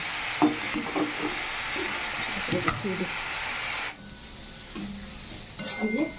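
Cabbage stir-fried in a wok, already reddened, sizzles steadily while a spatula scrapes and clinks against the metal in irregular strokes; the frying hiss drops away partway through, then stirring resumes briefly near the end.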